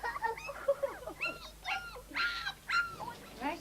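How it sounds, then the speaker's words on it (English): Young puppies whimper and yap in a close chorus of high, wavering cries and short yips, rising and falling over a few seconds. "The arrival of puppies bred by Barry's father Pat"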